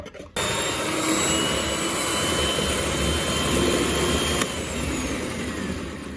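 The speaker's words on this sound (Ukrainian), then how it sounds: "Додаємо дрібку солі і збиваємо на малих обертах." An electric mixer whisks egg whites with a pinch of salt on low speed for a meringue roll. The steady motor whine starts abruptly after a brief pause and holds loud and close throughout.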